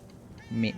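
One short, close meow from a cat in the video game Murdered: Soul Suspect rises briefly above a quiet background near the end.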